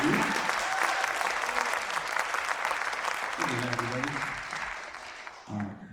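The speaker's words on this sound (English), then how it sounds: "So let's give a round of applause to all the musicians for all things they do." An audience at a high school fall concert applauds the musicians with loud, dense clapping that tapers off, while a voice speaks over the end.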